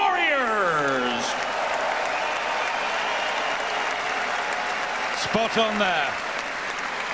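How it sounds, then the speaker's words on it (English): A boxing arena crowd in Mannheim gives steady, loud applause for two fighters after a Felix Sturm vs. Martin Murray bout, while an announcer's voice carries over the clapping. "how about a big round of applause for these two"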